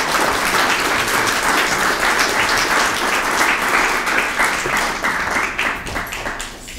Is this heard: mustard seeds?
no